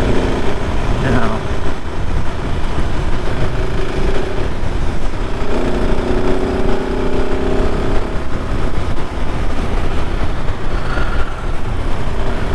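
A KTM 690 Supermoto motorcycle engine drones steadily while riding at highway speed around 60 mph, buried in heavy, continuous wind rush with faint shifts in pitch.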